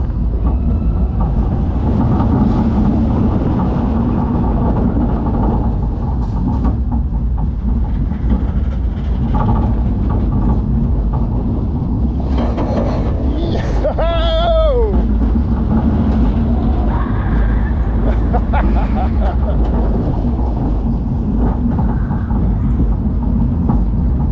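Riding the Loch Ness Monster roller coaster at Busch Gardens, with continuous loud rumble and clatter of the cars on the track and wind roar, while riders talk, cheer and shout over it.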